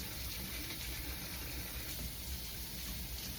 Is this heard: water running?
yes